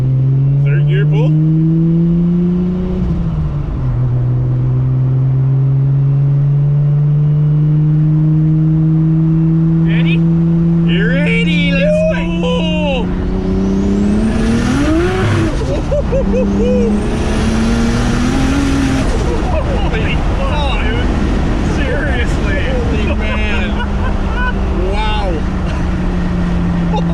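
A Nissan R34 GT-R engine climbs in a long, loud rising drone during a third-gear dyno pull, close and continuous, with the pitch sweeping upward before dropping off as voices are heard.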